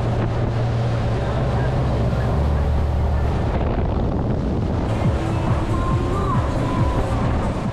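Boat motoring back alone through green coastal waters, with a steady loud engine drone and wind buffeting the microphone, plus the wash of waves and water throughout.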